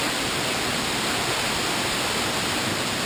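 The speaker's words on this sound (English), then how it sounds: "There's a waterfall" Waterfall inside a sinkhole cave, a loud, steady broadband rush of falling water that fills the space without letup.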